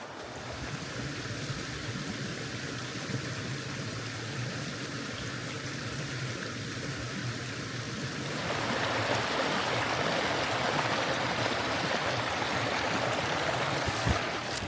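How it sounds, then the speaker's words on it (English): Year-round mountain stream in a canyon, a steady close rushing and burbling of water that grows noticeably louder and fuller partway through, alone with no voices. "Continuous year-round stream just like this."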